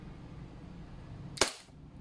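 A Kjworks CZ P-09 airsoft gas blowback pistol fires a single sharp, loud crack that snaps off quickly, followed by a short hiss against a quiet room background.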